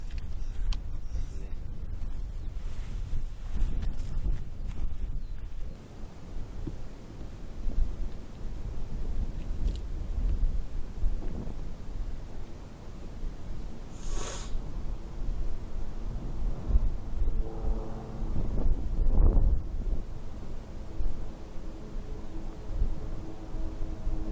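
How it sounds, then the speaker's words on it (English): Gusty wind roars across the microphone in uneven surges while stalking fallow deer, with a few brief knocks and a distant tonal hum partway through. "it's quite windy too"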